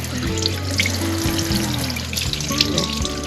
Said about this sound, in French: il faut pas hésiter à bien les rincer